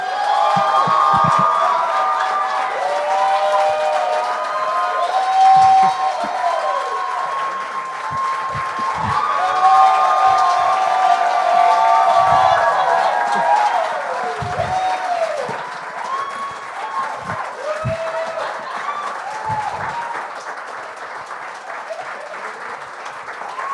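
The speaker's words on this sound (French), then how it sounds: "je vais vous demander d'applaudir longtemps parce que c'est Angelo Chiraldi!" A studio audience at a comedy talent show gives long, sustained applause and cheering, a dense roar of clapping with whistles and shouts rising and falling for over twenty seconds.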